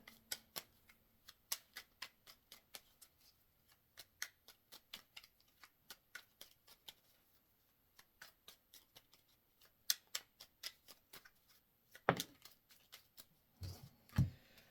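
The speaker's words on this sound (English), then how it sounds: "I'm going to get a fresh deck so we can have all the cards come out." A fresh deck of tarot cards being shuffled, with a long run of sharp riffling clicks and snaps close up, a short pause, and then a louder burst of shuffling near the end.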